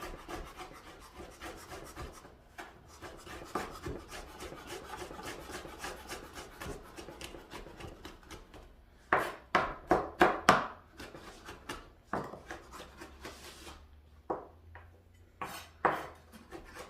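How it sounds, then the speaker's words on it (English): A knife slices olives on a cutting board in a home kitchen, steady scraping and chopping that turns into a cluster of sharper, louder taps partway through, then scattered cuts, with no talk over it. "So we're gonna cut the olives too."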